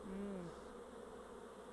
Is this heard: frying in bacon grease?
no